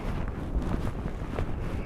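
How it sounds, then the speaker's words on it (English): Loud, steady wind rushes across the microphone on a hilltop neighborhood above Livingston on a stormy summer day, continuous and close with no one speaking. "Oh my goodness, it's windy."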